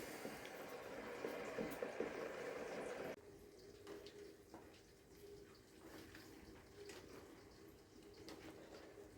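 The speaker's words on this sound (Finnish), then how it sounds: "nyt pannaan niin, että vesi jatkaa kiehumista" Water boils in a lidded pot where crayfish are cooking, a soft continuous bubbling hiss that is louder at first, then drops to a quieter, steadier simmer with faint pops.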